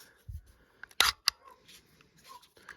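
The slide stop of a Blow TR-92 starter pistol is worked by hand, giving a few sharp metallic clicks close up, with one louder snap in the middle and lighter handling taps around it.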